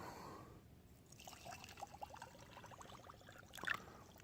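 Water pours and trickles into a glass jar, a faint, close splashing that breaks into a quick gurgling flutter as the level rises, ending with a brief brighter splash.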